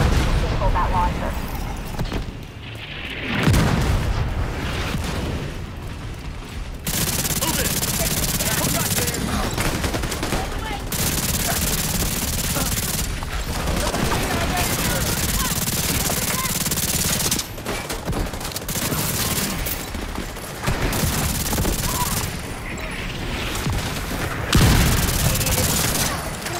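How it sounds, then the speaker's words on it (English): Mortar fire and explosions in the video game The Division 2, a dense, continuous barrage of gunfire and booms with an in-game voice speaking over the combat. "Mortars are coming from a mobile unit near the shoreline south of your position."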